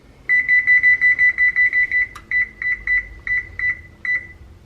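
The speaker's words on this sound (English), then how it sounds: "I'm set a timer." Someone sets a kitchen oven timer, which answers with a quick string of sharp electronic beeps and then a few slower, spaced beeps, loud and close in a quiet kitchen.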